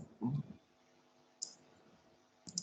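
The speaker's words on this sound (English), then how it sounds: "Somebody is clicking." A few faint, sharp clicks come through quietly during an online class, spaced apart with near silence between them.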